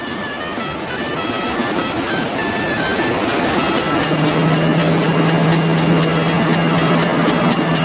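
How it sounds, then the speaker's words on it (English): A train in the mobile game Railroad Crossing rumbles past with a sustained low drone and rhythmic clanking, joined by repeated high electronic chimes, steady and loud throughout. "Train is coming!"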